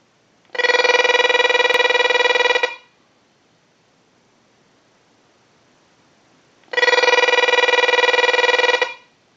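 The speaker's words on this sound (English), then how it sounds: "we're going to go ahead and use the analyzer and send a ring cycle, so we'll start that" Harris TS22 lineman's butt set ringing as a test analyzer sends a ring cycle: two long electronic ring bursts about two seconds each, separated by a few seconds of near silence, loud and close.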